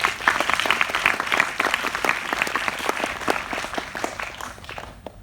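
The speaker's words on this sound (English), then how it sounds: "give a round of applause to the people who work in the" An audience applauds the people who work in airport operations, with dense clapping that stays steady for about five seconds and then fades out at the end.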